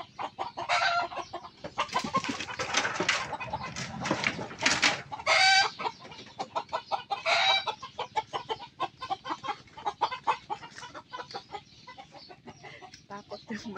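Chickens cluck and call close by at a rural home, with loud bursts of squawking early on, then a run of rapid, rhythmic clucks, and a voice speaking in between.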